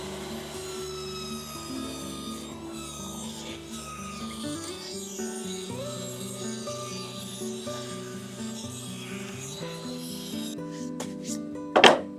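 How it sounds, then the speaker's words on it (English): Rhythmic rubbing and rasping of sandpaper across varnished wooden strips during a cottage loft makeover, steady back-and-forth strokes close by with a tonal hum underneath and a brief louder scrape near the end; no talking. "Going to give them a quick sand."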